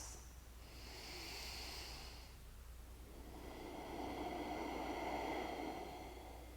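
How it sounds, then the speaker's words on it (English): Slow, deep yoga breaths, a soft inhale followed by a longer, louder exhale, each a gentle airy hiss heard close and alone in a quiet room. "Let's do 2 more breaths."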